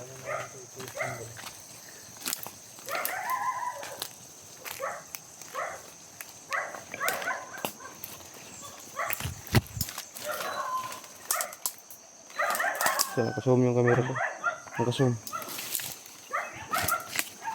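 Several dogs bark intermittently at night in a grassy area, sharp yelps scattered at mid distance, mixed with footsteps and brief speech from people walking nearby.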